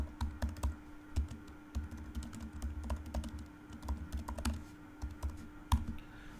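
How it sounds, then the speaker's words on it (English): Keys clatter steadily on a computer keyboard while a database query is typed out during a live Salesforce Apex coding lesson, a fast irregular run of close, crisp clicks over a faint low hum, with no talking. "So I'm just typing it here."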